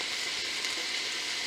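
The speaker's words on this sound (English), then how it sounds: "Sizzling nice." Steady, close crackling hiss of chicken gnocchi soup ingredients frying in a hot pan, even and continuous without any voices.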